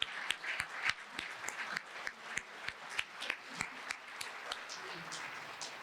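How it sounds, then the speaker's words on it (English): An audience applauds for Hunter, with sharp individual claps close by standing out over a continuous crowd of clapping and a few cheers. "Everyone give a big round of applause for Hunter."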